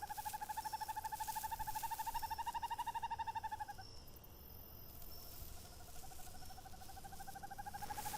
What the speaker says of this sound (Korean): 소노란 하늘을 지배하는 조용한 암살자, 큰 뿔 부엉이.